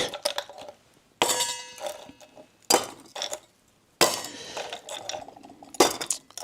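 An antique ice bucket clinks and clatters in several sharp bursts as it is handled, with metallic and glassy knocks separated by short quiet gaps.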